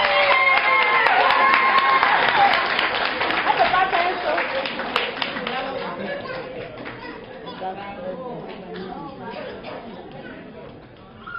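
An audience at a children's talent show for young African performers applauds and cheers, a loud steady mass of clapping and crowd chatter that slowly fades over several seconds.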